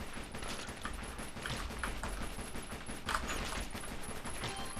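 Dual wield pistols fire continuously in a zombie shooter video game on a wide open map, a dense unbroken fusillade of shots mixed with clanking mechanisms and a steady high game tone throughout.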